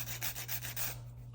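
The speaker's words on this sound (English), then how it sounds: "I am filing on top of the nails in some area" A nail file rubs back and forth over encapsulated acrylic nails in several quick, faint scratchy strokes that stop near the end, alone over a low hum.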